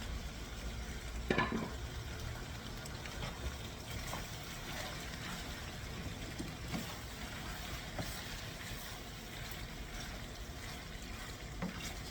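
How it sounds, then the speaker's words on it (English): Pasta being stirred with grated Parmigiano in a garlicky tomato sauce, a steady soft sizzle and scraping in the pan with occasional clinks of the spoon, continuous and fairly quiet. "I want you to put it in, stir it around."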